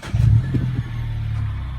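A Mini Cooper S engine with a newly replaced downstream oxygen sensor cranks and catches close by, a loud short burst that settles into a steady low running hum.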